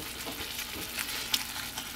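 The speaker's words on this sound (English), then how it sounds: "you can tell the sauce is boiling when bubbles start coming out the main part of it" Tomato sauce for lasagna roll-ups bubbling and simmering in a pan, a steady soft broadband hiss with faint popping bursts throughout, close and continuous with no talking.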